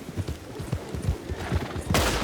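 Horse hooves clip-clop in a steady, fast gallop rhythm in Red Dead Redemption 2, close and prominent, with a loud noisy burst near the end.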